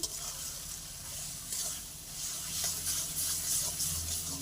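Taro stems cooking in a pan with grated coconut, a bright hissing sizzle that swells and eases as they are stirred, close and moderate in level, with low background hum and no talk.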